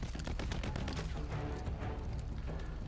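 Enemy gunfire in the video game Call of Duty Modern Warfare III during the Gora Dam mission: a dense, continuous rattle of rapid shots close by, thick with low rumble and sharper cracks layered on top.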